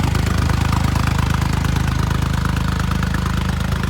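A Massey Ferguson tractor engine idles steadily nearby in a village cornfield, a loud, even low rumble with a rapid regular knock and no other sounds.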